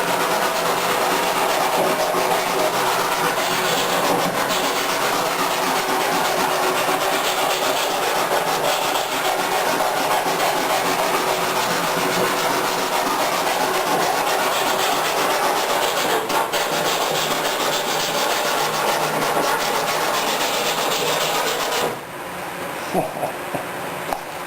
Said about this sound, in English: if you want to check the rounding, use this plastic back, the shipping tape back sandpaper